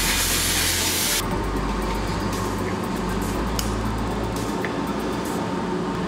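Compressed air blows to dry a Karl Fischer titration needle in a lab, a loud broadband hiss that stops abruptly after about a second, leaving a lower steady rush of background noise.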